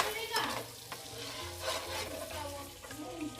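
Shrimp cooking in butter with onion, stirred in a pan at home: continuous close sizzling with repeated scraping stir strokes and faint clinks, no voices.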